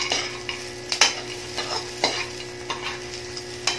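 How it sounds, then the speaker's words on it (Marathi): Peanuts roast in a hot pan with a steady sizzle, while a spoon scrapes and stirs them in repeated sharp strokes, close and alone. "ह्याच्यामध्ये मी 2 चमचे शेंगदाणे टाकते. हे अगदी आपल्याला जस्ट 1-2 मिनिटं फक्त परतवून घ्यायचं."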